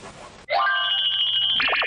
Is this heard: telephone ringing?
yes